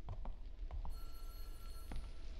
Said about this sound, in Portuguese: O telefone tá tocando.